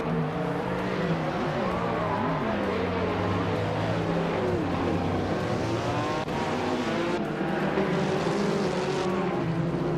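Rallycross race cars launching off the start at Los Arcos in a racing game, a dense, loud roar of several engines revving and shifting together, sustained for the whole stretch with no talking.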